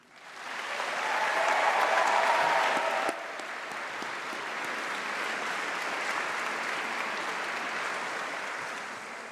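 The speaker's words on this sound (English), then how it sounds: "let's give a huge round of applause and a big cheer to say thank you to all of your supporters" A large graduation congregation audience bursts into loud sustained applause and cheering for the graduands' supporters, peaking early then settling into steady clapping that continues throughout.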